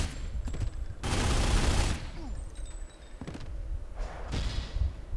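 Gunfire erupts in a Godfather video game mob war as mobsters shoot rival gang members, with a long dense burst of rapid shots followed by a few shorter volleys and scattered single cracks, loud and up close.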